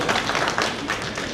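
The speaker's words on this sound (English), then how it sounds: "A round of applause for me" Audience applause at a political policy roundtable forum, a dense, steady spread of clapping lasting about a second and a half, fairly loud and fairly close, with no talk over it.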